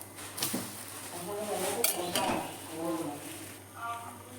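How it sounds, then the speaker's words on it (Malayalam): Clinks and scrapes of a spatula against a pan as a dosa is flipped, a few light metallic knocks under a faint steady hum, with no talking. "നമ്മുടെ ദോശ നമുക്ക് മറിച്ചിടാം."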